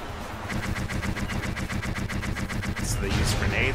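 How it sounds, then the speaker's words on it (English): Enemies hurl grenades at the whole party during a Final Fantasy VII battle, producing a rapid, steady volley of explosive bursts with a low rumble, loud and continuous, growing heavier near the end. "So they use grenades and attack the whole party."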